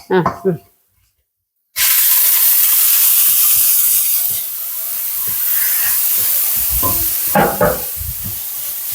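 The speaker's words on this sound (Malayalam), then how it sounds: "ഇനി നമുക്ക് ഈ അരപ്പം കിട്ടു കൊടുക്കാം" Ground spice paste added to a hot pan with shallots for a drumstick-leaf thoran, bursting into a loud, steady hiss and sizzle that holds for several seconds, with stirring scrapes and talking before and near the end.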